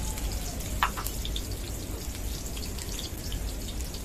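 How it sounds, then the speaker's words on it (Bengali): A cup of chopped onions frying in hot oil over high heat, giving a steady, dense crackling sizzle throughout with a couple of brief sharper pops. "তেলটা গরম হয়ে আসলে আমি এর মধ্যে কেটে রাখা 1 কাপ পেঁয়াজ কুচি"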